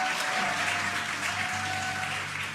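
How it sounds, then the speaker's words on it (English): A crowd cheers and applauds as a SpaceX Dragon capsule descends under parachutes after returning to Earth. The sound is a dense, continuous wash of cheering and clapping from a distance, with a low steady hum beneath. "Crowd here very excited as Dragon Freedom continues to make its way back to planet Earth."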